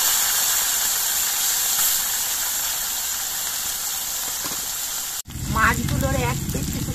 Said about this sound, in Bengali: আমি দুবারে মাছগুলো ভেজে নেব।